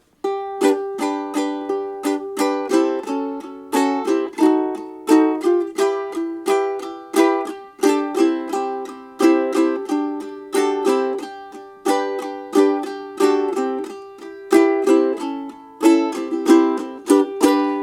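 A ukulele strummed steadily in a bright, bouncy rhythm, chords repeating with crisp attacks and no voices, played close and clear.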